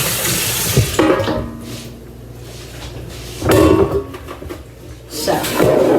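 Water runs from a kitchen tap while something is rinsed out during dinner cooking, a loud rushing stream that surges and eases in bursts, with a voice speaking between.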